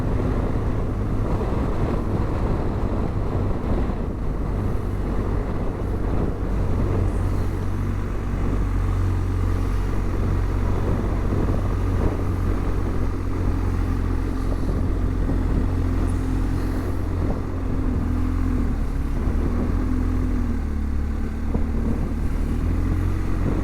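A motorcycle rides along a road in Ireland, with a steady engine drone buried under heavy, continuous wind roar, loud and unbroken throughout.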